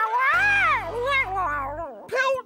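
A cartoon character imitates a cat, giving a long drawn-out voiced meow followed by a shorter second meow, close and clear, with a low hum under the first call.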